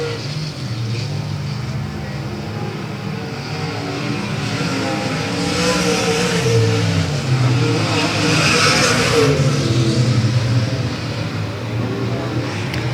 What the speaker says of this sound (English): And once again, the top 3 cars start to separate themselves from the remaining 3, led by Max Helms in the 174.